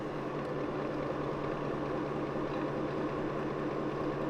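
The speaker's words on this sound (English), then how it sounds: "It's also louder than other premium robo vacuums when it's washing its mop pads." A steady mechanical whirring hum with a low drone, constant and fairly loud throughout, as a Eureka J15 Pro Ultra robot vacuum dock washes its mop pads.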